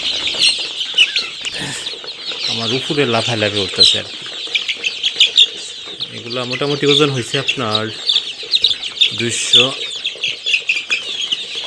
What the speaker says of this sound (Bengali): এগুলো হচ্ছে ফার্মি মুরগি।